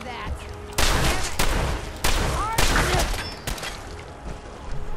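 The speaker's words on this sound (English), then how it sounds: "Who's shooting there?" Gunfire rips through a Fallout 4 battle in the Gauntlet arena, loud overlapping bursts and volleys starting and stopping abruptly over several seconds, dense and close.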